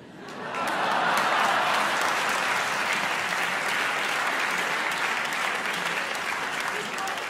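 A debate audience breaks into sustained applause, a dense wash of clapping that swells quickly and holds steady for several seconds, filling the hall.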